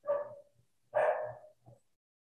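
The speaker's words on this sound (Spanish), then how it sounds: "Los perros ladran." A dog barks in a quiet setting, two separate barks with a short trailing yelp, moderately close and fairly faint, with no talking.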